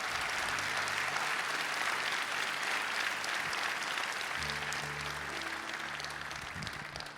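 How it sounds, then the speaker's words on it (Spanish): A church congregation applauds at a Spanish-language worship service, a dense, steady wash of clapping from many hands that fills the space continuously from start to finish, with a low musical hum underneath. "un aplauso al Señor con fuerza"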